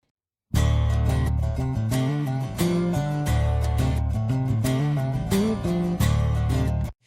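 A mixed bass part before its final shaping plays a loose, rhythmic low-end line with a dense full mix, sustained and loud from a sharp start to an abrupt stop, with no talking.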